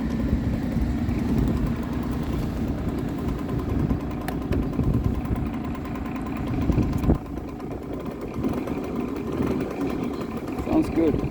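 A Hyosung Sense motorcycle in bad shape idling close by, a steady low engine rumble with small fluctuations throughout and a couple of brief clicks.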